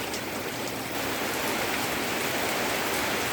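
Rain falls steadily outside a home kitchen, a close, even hiss of drops on surfaces that holds constant throughout without voices.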